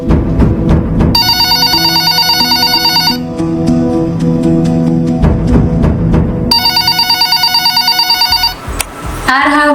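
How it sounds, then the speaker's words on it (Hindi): A phone rings in two separate bursts of bright, buzzing electronic trilling, loud and close, over continuous background music. "आ रहा होगा किसी का फोन,"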